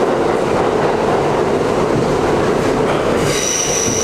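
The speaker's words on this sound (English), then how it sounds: "we're heading into the subway" A New York City subway train rumbles in a steady, loud, continuous roar with rail noise throughout, and a high wheel squeal rising near the end.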